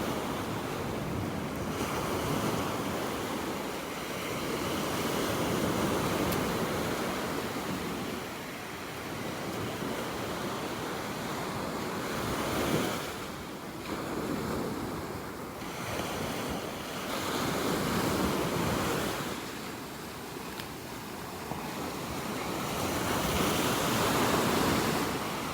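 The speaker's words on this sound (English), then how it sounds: "Loving the sounds of the waves out here this morning." Ocean waves washing onto a beach in North Naples, Florida on a morning walk, a steady roar of surf swelling and easing in repeated surges, with wind buffeting the microphone and no talking.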